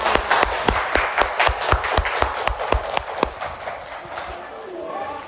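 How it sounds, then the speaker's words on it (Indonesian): Children in a classroom applaud a classmate with loud, evenly spaced clapping in unison, the beat carrying on for several seconds before tapering off. "Beri tepuk tangan dulu untuk temannya."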